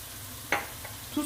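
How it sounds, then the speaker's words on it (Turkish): A soft, steady sizzle of tomato paste frying in a pan, with a brief scrape of stirring partway through. "Evet, salçamız da kavruldu."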